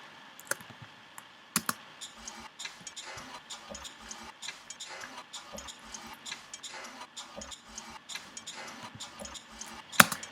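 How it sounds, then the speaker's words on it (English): Foley percussion samples from a Monty Booker kit, layered in a beat: a busy stream of dry clicks, ticks and small rattling hits running steadily throughout, with a few sharper accents, no voices. "Here's what the Foley sounds like all together."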